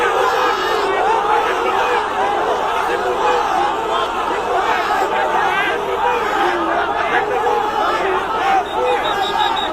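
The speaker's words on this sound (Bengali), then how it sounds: "ভুয়া ভুয়া স্লোগান দেয়।" A large crowd of people chanting the slogan "fake, fake" in unison, a loud, continuous roar of rhythmic shouting voices mixed with general crowd noise and chatter.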